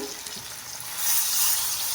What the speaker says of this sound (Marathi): आता टाकूया पाणी।